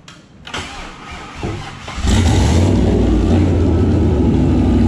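A turbocharged truck engine in a Corvette cranks and fires on a dyno, catching after a couple of brief attempts and settling into a loud, steady idle.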